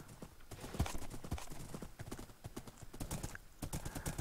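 A Minecraft donkey walks along with steady, quick hoof clip-clops, quiet and close, as a faint whinny rises briefly near the end.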